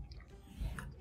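Brief, soft chewing of boiled pork dipped in sauce, a moist bite or two heard up close and quiet.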